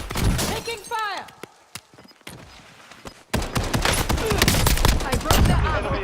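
Bursts of rapid gunfire from a shooter video game crack in clustered volleys, with brief pauses and metallic clatter between shots, loud and close.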